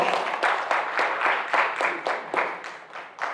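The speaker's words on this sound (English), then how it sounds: "Let's give him a round of applause." Audience applause at a battle of the bands event, heard as a steady rhythmic clapping in repeated broadband bursts about every half second, moderately loud and filling the room without any talk.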